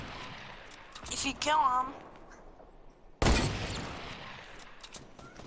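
An assault rifle fires in Fortnite, a single loud, sharp burst cutting in after a player's voice, followed by a trailing echo and more talk.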